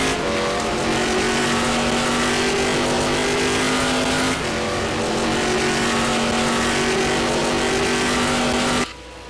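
GT race car engine in a racing video game at Fuji, a loud sustained high-pitched drone held through a gear change, then cut off abruptly near the end.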